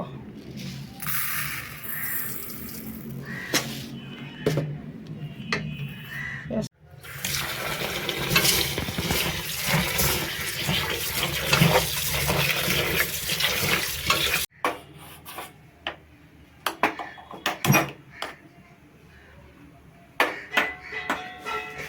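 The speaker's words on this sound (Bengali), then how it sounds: "এতিয়া ইয়াতে গৰম পানী দিম গৰম পানী দিছোঁ" Hot water poured into a pot of washed rice and lentils on a gas stove for home-made khichuri, with splashing and rushing water in bursts between stirring clatter and quieter gaps, a voice briefly audible.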